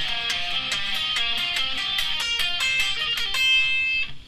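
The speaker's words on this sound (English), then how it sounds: "Pentatonics in fourths." A pentatonic scale played in fourths as a quick run of plucked, evenly spaced note pairs, bright and close, with the last notes ringing out, no talking.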